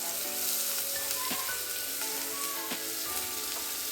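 Finely chopped onion sizzles in hot oil for a Kerala-style fish curry, a steady close hiss with stirring scrapes of a utensil against the pan.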